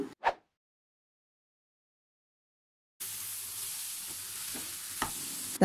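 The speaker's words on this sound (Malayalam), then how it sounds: "ഇനി ഇതിലേക്ക് നമ്മൾ ആ വറുത്ത ചേമ്പ് കൂടി ചേർത്ത് കൊടുക്കാം. നന്നായിട്ട് ഇളക്കി മിക്സ് ആക്കണം." Fried taro root pieces being stirred into masala in a hot pan, giving a steady close sizzle with a few scraping knocks of the spoon, after a brief clatter and a stretch of silence, no voices.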